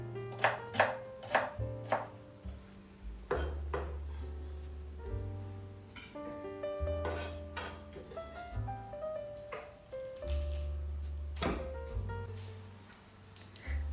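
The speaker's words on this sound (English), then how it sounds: "a medium size of onion cut into small pieces" A medium onion being chopped into small pieces on a board, crisp close knife knocks coming in quick irregular bursts with short pauses between runs.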